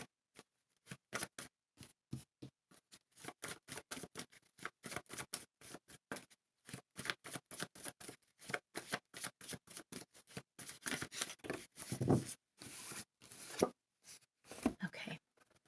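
Tarot cards are shuffled and drawn by hand, a long run of quick, crisp flicks and riffles close by, with a denser flurry of card handling toward the end and no talking.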